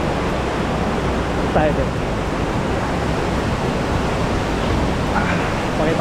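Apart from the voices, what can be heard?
Pulang Bato Falls waterfall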